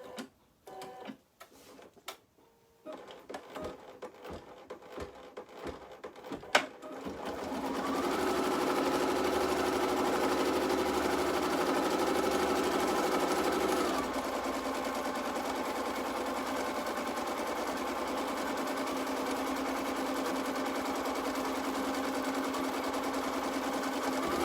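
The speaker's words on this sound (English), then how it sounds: "Now I can go ahead and tack this down in place." Embroidery machine stitching fabric down in the hoop, starting after a few scattered clicks and handling noises, then running as a loud, steady, rapid mechanical whirr that continues to the end.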